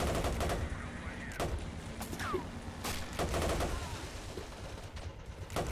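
Troops fire guns in a video game battle, with scattered sharp cracks and quick bursts over a constant low rumble, fairly faint and continuing throughout.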